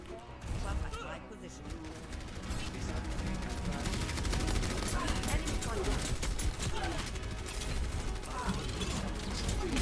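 Overwatch video game gunfire: dense, rapid clattering shots and mechanical weapon effects run almost nonstop at moderate loudness, mixed with other game sounds.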